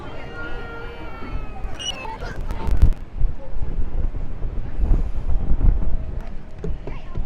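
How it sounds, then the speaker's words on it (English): Breezy wind on the seaside pier at Clacton-on-Sea, heard as heavy low buffeting gusts across the microphone, with distant crowd chatter and faint higher calls early on. "It's a very breezy day today"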